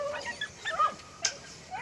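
A dog whimpering with small yips and a brief bark, faint and intermittent against a quiet background, with no speech.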